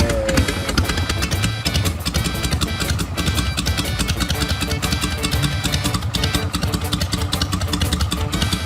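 A vintage Harley-Davidson motorcycle engine idles steadily up close from a cold start, a dense, even chugging with mechanical clatter that stays constant throughout.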